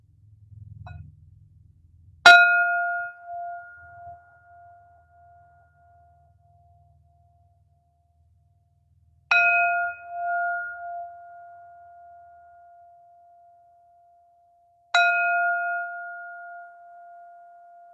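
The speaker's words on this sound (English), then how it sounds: "let's go to bell 3" A meditation bell is struck three times at wide, unhurried intervals. Each strike gives a clear, bright ring that lingers and slowly fades into near silence before the next.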